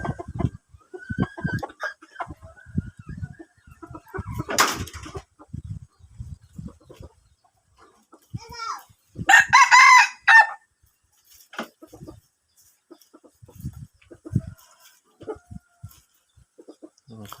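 A yellow rooster crows loudly partway through, with scattered clucks and other farmyard noises around it, and someone talking in between.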